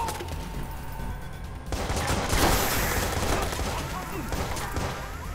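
Close, heavy gunfire in Watch Dogs, bursts of rapid automatic shots that swell midway and keep rattling, with a voice speaking faintly underneath.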